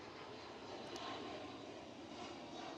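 Airplane near an airport in Puerto Rico, heard as a steady, fairly distant engine roar that fills the whole stretch without pause or voices.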